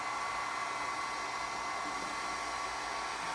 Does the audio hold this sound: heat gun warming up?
yes